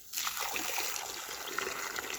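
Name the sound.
water poured to soak ground before concrete blinding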